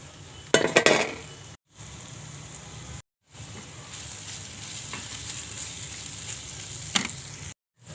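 Onion and tomato frying in a pan with Malvani masala, asafoetida, turmeric and garam masala, a steady close sizzle with a louder burst of spattering and stirring early on, broken by a few short silent gaps.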